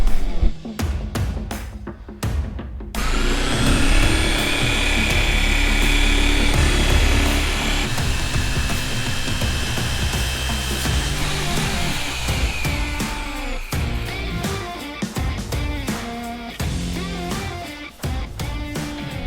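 A car paint polisher spun at higher speed with compound on scratched paint whirs loudly and steadily up close, its tone wavering under pressure before tapering into scattered handling clatter near the end.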